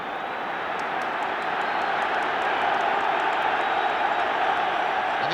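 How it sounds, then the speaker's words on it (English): Wembley football crowd roaring in support of England during a match against Poland, a dense, continuous, loud wall of crowd noise with a commentator talking over it. "the exciting sound of a Wembley crowd rising to encourage England at the moment"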